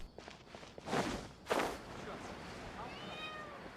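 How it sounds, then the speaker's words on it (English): Cat meows in Genshin Impact, several short rising and falling calls near the end, after footsteps and rustling game sounds; game effects continue around them. "there is a cat around here, it's just in a really awkward spot"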